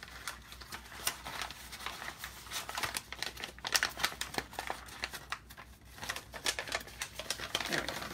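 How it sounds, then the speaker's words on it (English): A folded paper square is opened up by hand, making close, continuous crinkling and rustling with irregular sharp crackles throughout. "I'm going to unfold this to show you the example."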